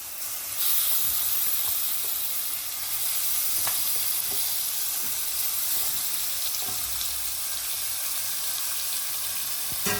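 Soaked country chicken hits a hot pan and sizzles steadily, a loud, close hiss of frying that keeps going, with a few faint taps and stirring clinks and no talk.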